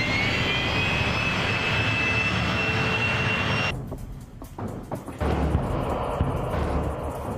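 A jet airplane engine in flight gives a loud steady roar with a high whine, which then drops away into a muffled cabin rumble with scattered bumps and clicks.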